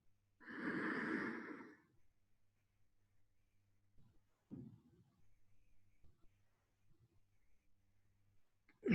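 A slow, deep breath drawn during a Tummo meditation session, a broad airy inhale of about a second standing alone in near silence, followed by softer, fainter breaths and small rustles over a low steady hum.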